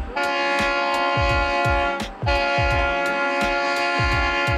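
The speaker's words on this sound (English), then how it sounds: "Well, that train wasn't fast," Cog railway train on Mount Washington, climbing slowly with a steady rhythmic chugging beat and sustained tonal ringing, loud and close, briefly dipping midway before resuming.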